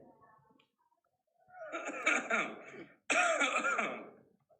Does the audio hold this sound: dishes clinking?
no